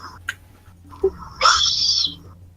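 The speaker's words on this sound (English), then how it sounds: "It's the sound of a hawk." A hawk call sound effect rings out as a sharp, shrill cry, with a couple of short chirps leading into one longer, bright screech that fades after about half a second.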